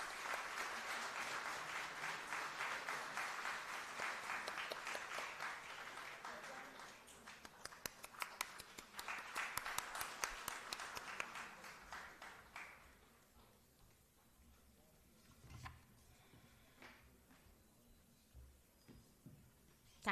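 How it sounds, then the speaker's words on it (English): Audience applause at an international academic conference, a sustained round of many hands clapping that swells and then fades after about twelve seconds, leaving a few scattered claps and faint room noise. "I request you all to give a big round of applause."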